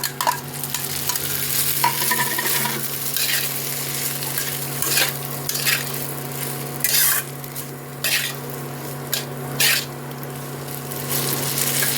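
Fried eggs being stirred into chilli pasta in a pan, a steady sizzle with repeated scraping stir strokes close up, no talking.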